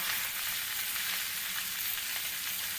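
Papaya and potato frying in oil with a little salt, a steady dense hiss of sizzling that holds unbroken throughout, close and fairly loud with no voices.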